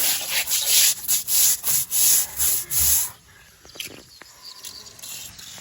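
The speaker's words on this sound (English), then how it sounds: "Time to give it all a good scrub." Scrubbing a formal fish pond: a steady run of loud, rhythmic back-and-forth rubbing strokes close by, then quieter scattered scraping and splashy rustles after about three seconds.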